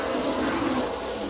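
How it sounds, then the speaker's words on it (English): An RV shower head sprayer spraying water, a loud close steady hiss of fine, hard spray running continuously without pause. "That's a good hard fine spray."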